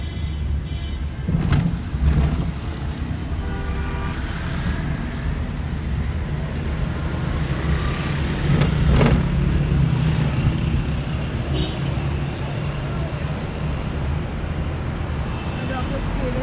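A car drives through city traffic with a steady low road and engine rumble throughout, a few brief louder passing swells, and someone talking inside the car.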